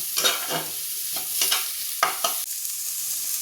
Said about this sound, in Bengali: এবার সব মশলাটা আমি সবজির সাথে মিশিয়ে নিলাম